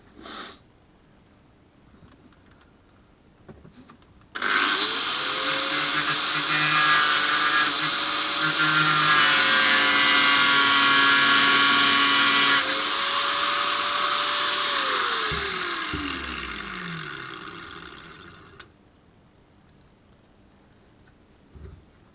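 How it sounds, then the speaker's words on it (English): An angle grinder shaping tube for a Suzuki 1250 Bandit motorcycle crash cage, spinning up abruptly and whining loud and steady for about fourteen seconds, its pitch shifting under load before winding down. "you're doing the grind, using it with the grinder"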